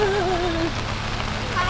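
Rain falls on a cold, muddy campsite at Ranca Upas, a steady close hiss of drops that holds evenly throughout, with faint tonal sounds drifting in the background.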